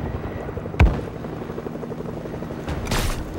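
A helicopter in the video game Fortnite, heard as a thumping rotor drone with a sharp boom early on and a burst of noise near the end, set amid other game effects.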